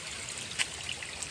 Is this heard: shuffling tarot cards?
no